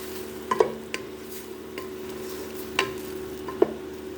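Hashi fat rendering in a pan for maqluba gives a faint, steady sizzle, broken by a few soft clicks and scrapes of stirring. No one speaks.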